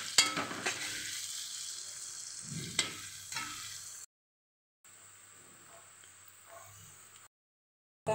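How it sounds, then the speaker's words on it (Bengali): Finely chopped greens frying with black cumin seeds, a soft steady sizzle with a few scraping stirs, cut by two short gaps of silence. "এগুলো দেখি সুন্দর করে ভাজা হচ্ছে।"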